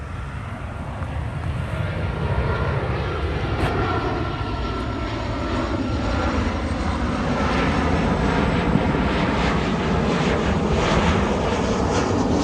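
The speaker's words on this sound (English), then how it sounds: "I think an airplane coming in." A fixed-wing airplane comes in overhead with a steady, loud engine roar and broad rumble that holds throughout, with no talking.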